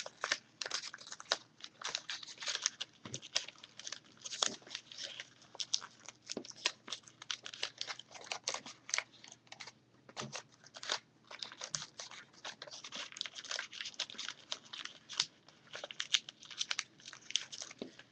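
Paper is folded for an origami flower, with quiet, close crinkling and crisp creasing sounds coming in rapid, irregular bursts over a soft background hum.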